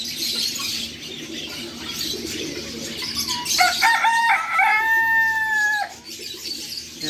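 A fighting rooster crows once in a long, drawn-out call that rises and holds, heard over a busy outdoor background murmur at a bird market in Doha, Qatar.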